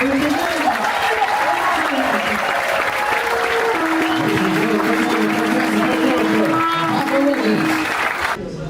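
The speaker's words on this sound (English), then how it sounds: "How about one more round of applause?" Audience applause after a haka (Maori posture war dance) performance at a farm show in Auckland, New Zealand: sustained, loud, dense clapping from a crowd, continuous for the whole span before cutting off at the end.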